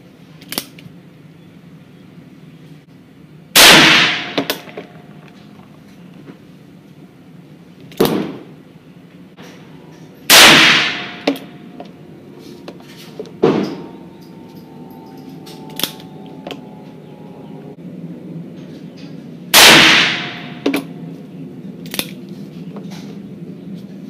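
A .44 Magnum fires powder-coated bullets on a range: three loud, sharp cracks several seconds apart, mixed with a few softer reports and mechanical clicks over a quiet background, with no talk.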